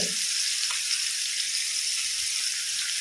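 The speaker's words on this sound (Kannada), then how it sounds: "ಹೀಗೆ ಒಳ್ಳೆ ಫ್ರೈ ಆಗಲಿ ಮೀಡಿಯಂ ಫ್ಲೇಮಲ್ಲಿಟ್ಟು ಮೀನನ್ನು ಬೇಯಲಿಕ್ಕೆ ಬಿಡಬೇಕು" Fish frying in a pan over a medium flame, a steady, close, continuous sizzle with a bright hiss and faint crackles throughout, no voices.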